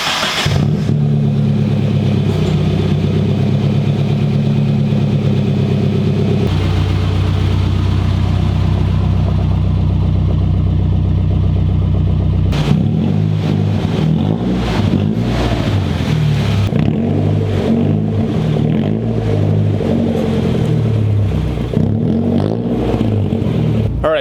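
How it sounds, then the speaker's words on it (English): Nissan 240SX fitted with an ISR exhaust, idling steadily with a deep low rumble before several sharp revs and throttle blips in the second half, loud and close with no talking. "I'm gonna show you exactly how this exhaust sounds"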